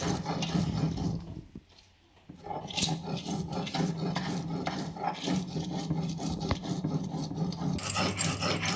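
Prawn heads are ground by hand on a stone grinding slab (shil-nora), giving repeated scraping, rasping strokes in a steady back-and-forth rhythm, close and fairly quiet, with a brief pause partway through.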